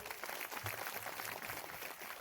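Applause from the audience at a kirtan performance in Chikhli, a dense steady patter of many hands clapping throughout, fairly faint and distant, with a voice briefly audible beneath it.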